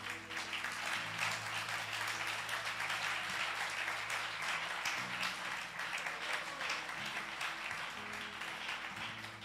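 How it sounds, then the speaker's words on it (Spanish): A church congregation breaks into loud, continuous applause, a dense crowd of clapping hands sustained steadily from start to finish with a low murmur of voices underneath. "Denle un fuerte aplauso al Señor."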